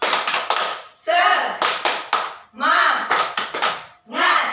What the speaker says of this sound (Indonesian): Oke, semuanya tepuk semangat.